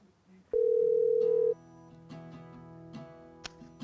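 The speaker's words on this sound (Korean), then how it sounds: "저희가 전화 연결을 한번 해볼게요." A telephone call connects on a radio broadcast: one loud steady dial tone lasts about a second, then fades into quiet background sounds.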